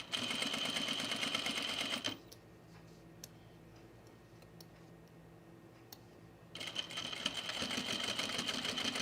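A sewing machine stitches a men's utility jacket in loud, steady bursts of rapid needle chatter, stopping for a few quiet seconds of small clicks before running again.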